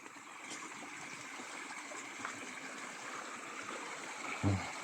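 A small blue river near Kabardinka on the Black Sea coast flows with a steady, soft rushing and trickling, fairly close and continuous, with a brief low bump near the end.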